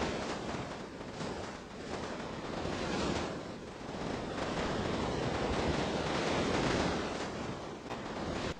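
Continuous broadband watery wash while swimming in the video game Rope Hero Vice Town, a steady surf-like rush with slight swells throughout and no talk.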